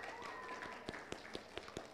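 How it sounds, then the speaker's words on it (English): The father of the bride claps at a church wedding shower celebration, a run of distinct, fairly quiet claps at an uneven rhythm in a room with faint background hum. "the father of the bride is clapping a lot."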